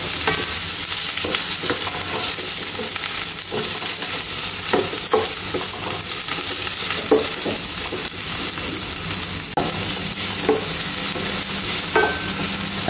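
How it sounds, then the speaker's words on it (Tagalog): Garlic and white onion sautéing in a little oil in a pan, the start of a sardine dish: a steady close sizzle with scattered scraping and stirring clicks throughout, no voices. "Ilagay na po natin yung ating bawang at yung ating puting sibuyas."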